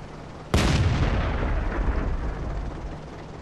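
A self-propelled gun firing in the World of Tanks video game, a single sudden loud boom followed by a long, rumbling decay that fades slowly.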